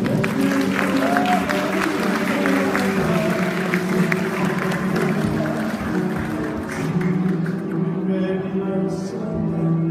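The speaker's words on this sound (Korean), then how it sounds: "큰 박수" Guests at a wedding ceremony give a sustained round of loud applause, dense even clapping throughout with crowd murmur and a little talk mixed in.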